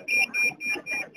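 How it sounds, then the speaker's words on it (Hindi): An earthquake alarm model built for a school science exhibition, with a coil wired to a battery and a hanging copper wire, rings in rapid repeating electric buzzing pulses, close and fairly loud. "ये अर्थक्वेक अलार्म है, जैसे भूकंप आता है तो"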